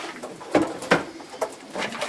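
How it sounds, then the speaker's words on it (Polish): A pigeon coos inside a new pigeon loft in a few soft, separate bursts over faint background rustling, close by with no talking. "Tu jest ten mój gołąb"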